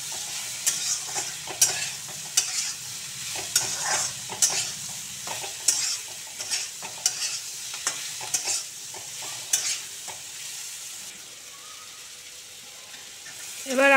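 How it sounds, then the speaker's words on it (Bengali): Pumpkin curry is stirred in a wok, a spatula scraping the metal in irregular strokes over a soft, steady sizzle that fades out near the end. "বেশ কিছুক্ষণ ধরে নেড়ে ছেড়ে নিতে হবে, মাঝে মাঝে নাড়তে হবে যাতে কড়াইতে না লাগে।"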